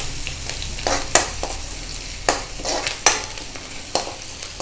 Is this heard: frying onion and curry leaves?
yes